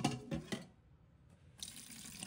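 Tap water runs steadily over a yellow croaker fish being rinsed at a sink, a bright continuous splashing that dips briefly when the flow is interrupted, then resumes close and loud, with no talking.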